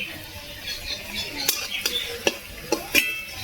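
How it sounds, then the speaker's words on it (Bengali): Cabbage dhoka fries in a pan with a steady sizzle, while a utensil gives several sharp clinks and scrapes as the pieces are stirred and lifted, close and fairly loud. "আমি এইভাবেই সব ভেজে নেব।"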